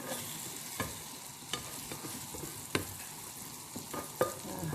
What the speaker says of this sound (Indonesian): jadi kita digoreng tapi dengan sedikit minyak ya